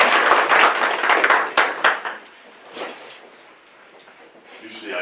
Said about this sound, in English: if you give me a round of applause for Judge Walker